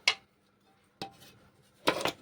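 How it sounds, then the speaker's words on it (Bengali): A lid is set down on a pan of light fish curry with pointed gourd and drumstick, giving a few short metallic clinks and clatters spread across about two seconds, close by in a quiet kitchen. "চলো ঢাকা দিয়ে দিই"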